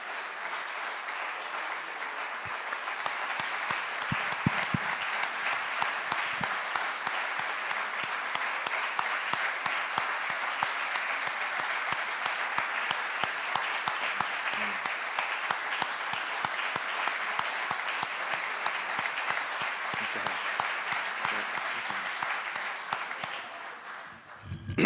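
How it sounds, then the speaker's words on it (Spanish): Sustained, dense applause from a conference audience in a full hall, steady and fairly loud for the whole stretch before fading at the very end. "Muchísimas gracias por los aplausos"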